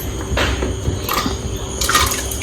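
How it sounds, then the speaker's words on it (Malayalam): Chopped vegetables for sambar tipped into a pot of water, a few close splashes and plops over a short stretch. "അടുത്തതായിട്ട് നമ്മൾ ഇതിലേക്ക് നമ്മൾ കട്ട് ചെയ്ത് വെച്ചിട്ടുള്ള വെജിറ്റബിൾസ് ഈ വെള്ളത്തിലേക്ക് ഇടാൻ പോവാണ്"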